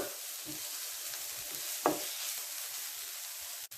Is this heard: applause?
no